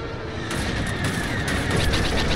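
Blaster fire in Star Wars: Battlefront II, loud and dense volleys of shots and booming impacts that run continuously as a close-up barrage, with no talking.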